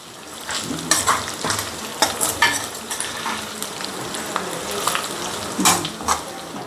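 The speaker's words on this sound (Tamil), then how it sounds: "பார்த்தே கிண்டுங்க, இல்லைன்னா உடஞ்சிரும்." Steady oil sizzle and crackle from anchovies frying in a pan, with repeated scraping and clinking of a utensil stirring them, close and fairly loud.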